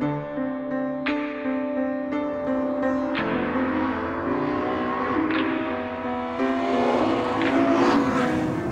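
A Ferrari F12 V12 engine revs and pulls hard, a strong harmonic drone climbing in pitch through several gear-like steps, loud and close with a brief tire squeal.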